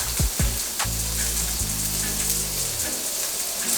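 Butter sizzles and crackles in a hot pan with steak on a stove, a bright, continuous hiss running throughout while low tones sweep and fade underneath.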